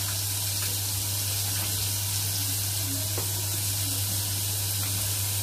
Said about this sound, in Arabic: هشوح كده التومه بمعلقه سمنه